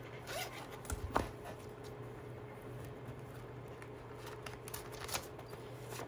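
A zipper on a savings wallet opens with a couple of quick, close rasping pulls amid faint handling rustles and soft clicks, quiet and intimate with no speech.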